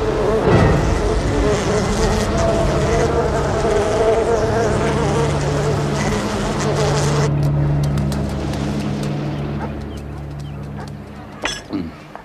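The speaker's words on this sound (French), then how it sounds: "La variété d'abeilles domestiques la plus courante dans ce pays porte le nom d'Apis mellifera." Honey bees buzz in a dense, continuous, loud drone up close, with speech over the swarm, thinning toward the end where a few clinks stand out.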